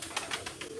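Soft, faint cooing of pigeons kept by a pigeon fancier, a few low murmuring pulses repeating in quick succession, with no talking.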